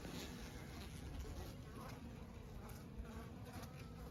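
A dense, steady hum of many honeybees fills an open Layens hive brood box on a windy March day, soft and continuous, with wind noise and someone speaking over it.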